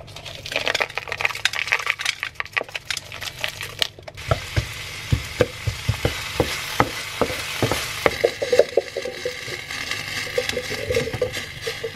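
Green beans and garlic fry in a pan, with a steady sizzle and a string of sharp clicks and taps from stirring, louder and busier after the first few seconds.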